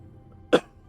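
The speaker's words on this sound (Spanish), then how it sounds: "¡Uy! La tos, compañero." A single short human cough, close and fairly loud, in an otherwise quiet room with a low background hum.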